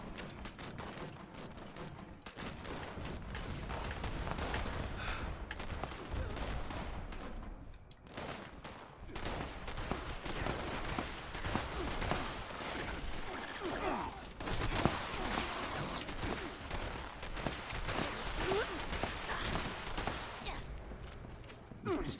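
Shotgun blasts and other gunfire in the game Fallout 76 ring out in dense, repeated volleys with thuds and footsteps, continuous through most of the stretch with a brief lull midway.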